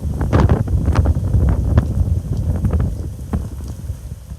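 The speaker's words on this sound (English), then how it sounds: "Almost took the phone out of my hand with that little gust" Hurricane wind gust buffets a handheld phone microphone outdoors, a steady loud rumbling roar with rustling bursts running throughout.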